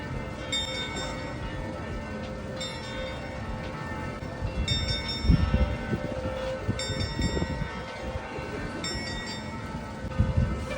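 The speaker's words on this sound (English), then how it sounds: "Skeleton's ringing the bell." A skeleton figure on the Prague astronomical clock rings its bell, a series of evenly spaced metallic chimes heard at a distance over a steady outdoor crowd murmur.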